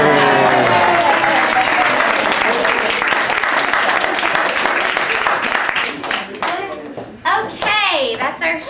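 Sustained audience applause and clapping at the close of a fifth graders' school show, dense and loud, thinning out in the last seconds as children's voices come through.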